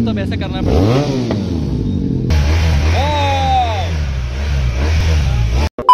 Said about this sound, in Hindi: These super bike guys are raving their motors really hard.